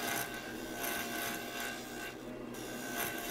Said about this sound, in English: You'll notice in a second when I turn off the lathe here in a sec.